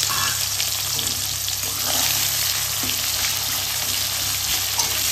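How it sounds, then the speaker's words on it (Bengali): Two medium chopped onions fry in hot oil in a pan, giving a steady, close, even sizzle throughout with no talking. "তারপর পেঁয়াজগুলো কি সুন্দর ভাজা হয়ে গেছে না"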